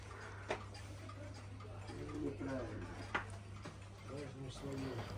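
An old wall clock like one a grandmother once had ticks steadily and softly in a room, its clicks running under a hum and nearby voices talking.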